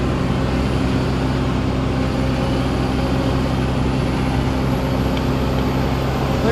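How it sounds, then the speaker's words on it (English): Large excavator loading an off-road dump truck at a jobsite: a steady, loud diesel engine drone with low rumbling and machinery hum, continuous and without speech. "Now he's going to load the other dump truck."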